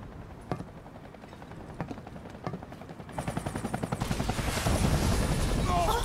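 A helicopter in Final Fantasy 7 Remake closes in with a rising rotor thump that grows loud and dense over the last seconds, following a few sharp game sounds.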